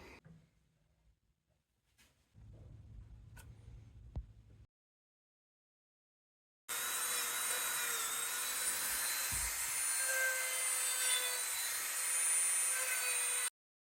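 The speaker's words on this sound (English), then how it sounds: "I'm gonna take a Dremel to this and see if we can clean that up right there" A Dremel rotary tool grinds dark staining off a metal piece, a steady high whine lasting several seconds after quieter handling noises and a short low hum.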